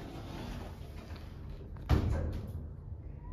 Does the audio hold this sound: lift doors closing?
yes